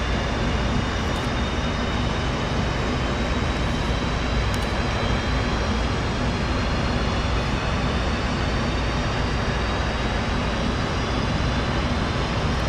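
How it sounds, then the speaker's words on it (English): An F/A-18C jet engine spooling up in the DCS World flight simulator, a loud, dense, continuous roar with a steady high whine, sustained throughout without voices. "Let's start the right engine. It is a little loud right now."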